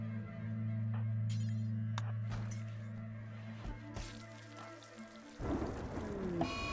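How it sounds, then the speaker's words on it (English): Flash storm in RimWorld: steady rain hiss with low rumbling thunder building through the first five seconds, then a sharper crack and heavier downpour burst near the end, no voices. "And a flash storm."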